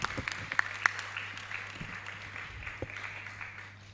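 A modest round of applause at a women's network conference, scattered hand claps of moderate loudness over a low steady hum, thinning gradually over a few seconds.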